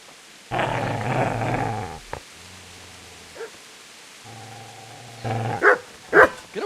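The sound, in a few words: dog growling and barking in video game Kingdom Come: Deliverance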